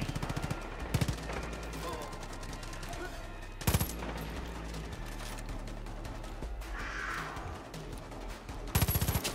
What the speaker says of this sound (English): Nope, that's the cultist shooting.